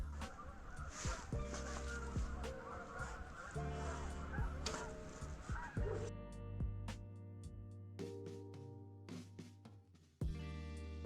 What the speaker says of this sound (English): Can you hear the geese down there?